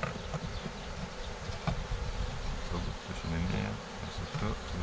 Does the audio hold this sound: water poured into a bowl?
no